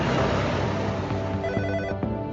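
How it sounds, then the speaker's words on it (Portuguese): A telephone rings loudly and steadily for a couple of seconds, with a dense continuous bell tone and no voices. "O telefone toca."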